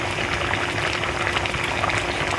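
Honey garlic salmon steak cooks in a pan with its seasoning, giving a steady, close bubbling sizzle that carries evenly through the whole stretch with no voices.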